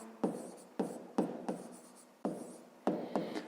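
Numbers are written by hand on paper in close, quiet scratchy strokes, about six short bursts separated by brief pauses.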